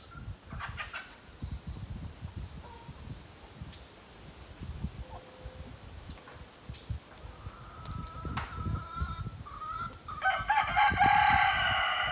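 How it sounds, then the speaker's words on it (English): Chickens in a pen in St. Thomas, Barbados, cluck and scratch with sporadic clicks, then a rooster crows loudly toward the end over the birds' background chatter. "So this is the chicken pen here."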